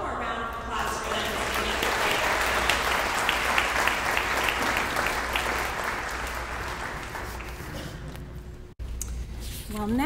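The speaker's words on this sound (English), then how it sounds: "How about one more round of applause for them?" A crowd applauds steadily and loudly at the dedication of a new elementary school, Sunset Heights Elementary. The clapping is dense and sustained for about nine seconds, then cuts off briefly before resuming.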